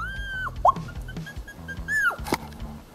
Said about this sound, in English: And she barks all the time.